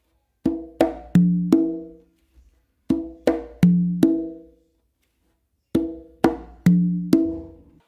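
Conga and tumba playing a tumbao with open tones, three short groups of four crisp hand strikes separated by pauses, near and loud, no talk.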